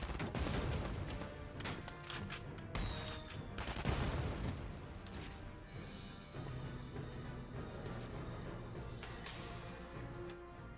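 Mortar and gunfire in the video game Valkyria Chronicles 4 make a dense, continuous battle din, with repeated sharp blasts and rattling shots over about ten seconds and a few louder booms standing out from it.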